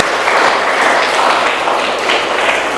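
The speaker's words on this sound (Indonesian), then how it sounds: "tepuk tangan untuk kita semua" Classroom of students applauding together at the end of a lesson on procedure texts, a steady dense wash of clapping lasting the whole stretch with no speech over it.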